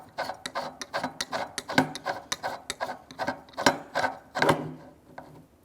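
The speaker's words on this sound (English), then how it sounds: "So we'll slide the new bottle in, push it into position, and screw it into place." Rapid clicking and ratcheting ticks sound up close as a new air bottle is screwed into place on an Avenge-X airgun, the quiet mechanical clicks coming in an uneven, steady series with no talking.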